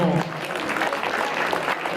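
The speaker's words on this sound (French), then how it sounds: "on applaudit quand même Serge" Clapping for a student after a Vietnamese reading game, a dense steady patter of applause from a small audience that continues briefly after a voice at the start.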